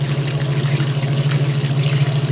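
A Kenmore 80 Series washing machine draining water, with a steady low motor or pump hum under a continuous rushing, trickling flow, loud and close.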